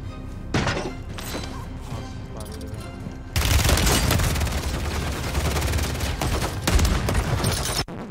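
Gunfire in a first-person shooter game bursts out in rapid fusillades and single thumping shots, loud and dense, with a sharp surge of sustained firing partway through.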